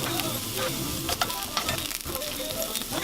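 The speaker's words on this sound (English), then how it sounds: "You want to hear it sizzle." Onions sizzle and crackle loudly in a hot skillet, a steady dense frying hiss with occasional sharper pops, heard up close with no talking.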